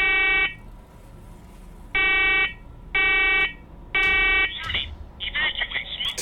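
A smoke alarm going off in a basement, sounding loud piercing electronic beeps in a regular pattern of about four long tones roughly a second apart, followed by scattered knocks and clatter.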